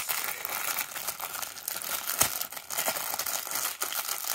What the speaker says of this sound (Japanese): 早速開封いたします。